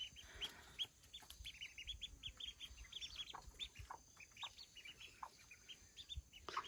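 A mother hen clucks low and intermittently beneath a steady scatter of high peeping chicks, all faint and nearby, with no voices.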